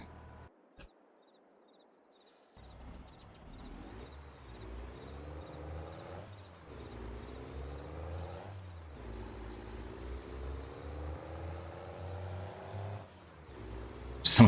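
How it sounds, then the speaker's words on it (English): A truck in Farming Simulator 22 lets out a short air-brake hiss. Then its engine revs up and down in repeated rising surges, growing steadily louder and ending in a sharp burst. "Truck over here."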